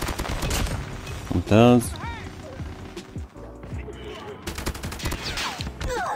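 Automatic rifle fire in an online shooter game, with rapid crackling bursts and clattering shots mixed with game effects while a player talks throughout.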